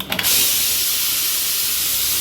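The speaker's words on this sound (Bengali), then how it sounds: "আমি প্রেশার কুকারটা খুলে নিব।" Steam hisses loudly and steadily from a pressure cooker being opened while cooking kabuli chana with potatoes, a brief burst of release at the start, then a continuous broad rush close by with no voices.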